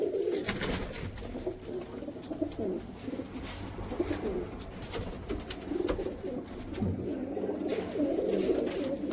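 Pigeons kept by a fancier in America coo in low, repeated throaty calls, close by and continuous over light background noise.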